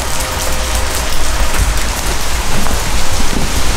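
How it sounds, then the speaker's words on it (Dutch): Heavy rain pours steadily outside an abandoned villa, a dense, loud continuous hiss of drops drumming on surfaces with no voices. "Het is niet normaal hoe hard het nu regent buiten."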